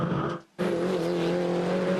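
MINI Challenge race cars with H-pattern gearboxes roar steadily at close range, and the engine note drops out briefly during a gear change before surging back at full revs.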